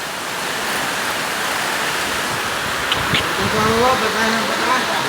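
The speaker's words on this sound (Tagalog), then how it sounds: "may hangin na siya ngayon. Tapos malakas na yung ulan." Heavy rain pours steadily with gusting wind, a dense roaring hiss that swells slightly toward the end.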